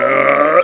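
A long, loud, drawn-out burp rumbles steadily for most of the moment, then trails off abruptly, heard alone with no talk.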